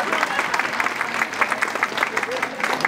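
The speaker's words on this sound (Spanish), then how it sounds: "si aplauden, aplauden con ganas" Audience applause at an education and business leaders event, a dense continuous patter of clapping throughout, moderately loud and filling the room.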